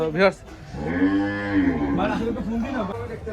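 Cattle at the City Hat livestock market in Rajshahi give a loud, drawn-out moo lasting about two seconds, with the bustle of the market behind it.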